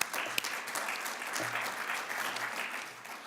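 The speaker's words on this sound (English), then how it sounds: "Let's have a round of applause for that." Attendees at an annual college celebration give a round of applause, a sustained spread of many hands clapping at a moderate, fairly distant level, with a faint low hum underneath.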